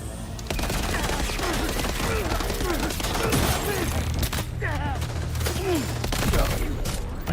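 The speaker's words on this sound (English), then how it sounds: "I got someone shooting." Gunfire crackles in Death Stranding, with repeated shots and bursts spread across the stretch, layered over a dense game soundscape and occasional voice-like tones.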